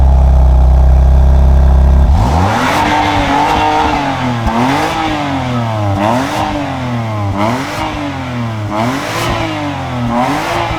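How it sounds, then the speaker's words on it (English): BMW M2 CS engine starts up and revs repeatedly, loud and close, with rising and falling swells roughly every one to two seconds after a deep idle. "Can you please rev my car?"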